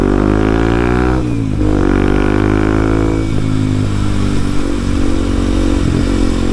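A Kawasaki KLX 230SM motorcycle on new tires rides along a road, its engine droning loud and close with rising and falling revs as it shifts, plus wind rush, with no talking.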